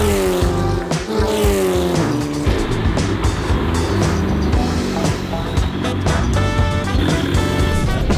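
Formula 4 race cars at a Grand Prix Explorer training session scream past with loud, high revving engines, several cars overlapping and shifting pitch, close and continuous.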